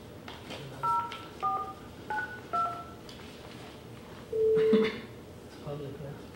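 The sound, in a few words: telephone keypad dialing a phone number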